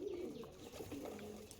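Young Andhra Abluk pigeons with white tails coo softly in short, low repeated calls, faint and close, with no talk.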